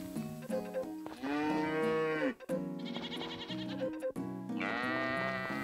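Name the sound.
cow mooing in video game Story of Seasons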